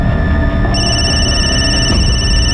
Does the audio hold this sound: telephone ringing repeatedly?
yes